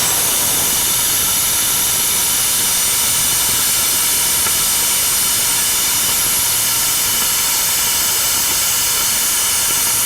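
A long-burning Signal R2 series model rocket motor roaring in flight on a thrust-vector-controlled rocket, a steady loud broadband hiss and rush holding unbroken for the full stretch with no voices.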